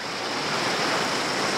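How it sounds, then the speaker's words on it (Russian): Spring streams and waterfalls rush steadily, a loud, continuous broadband roar of water with no pauses and no voices. "Ручьи, водопады."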